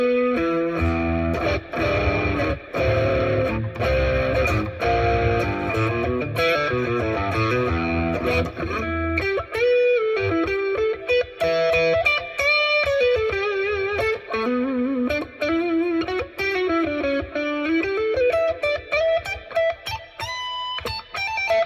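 An electric guitar with a Seymour Duncan Jupiter humbucker set, bridge pickup in parallel and neck in series, plays driven, effected chords and then a melodic single-note line, loud and close with no talking.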